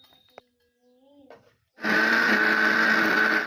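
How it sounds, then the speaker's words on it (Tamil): Mixer grinder jar grinding cooled roasted spices for a brinjal gravy starts abruptly after a few quiet sounds, running as a loud, steady, high-pitched whirring drone right to the end. "இதை அப்படியே மிக்ஸி ஜாரில் போட்டு அரைச்சிக்கோங்க"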